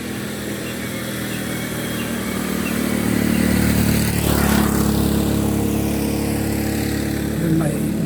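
A motorcycle carrying an elderly couple passes along a forest road, swelling and peaking near the middle before fading, over steady breezy ambience and birdsong with people talking nearby.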